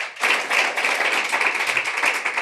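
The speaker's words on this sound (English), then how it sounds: "let's give her a round of applause" A room full of people gives a guest a round of applause, with a burst of steady, close clapping that starts at once and carries on evenly to the end.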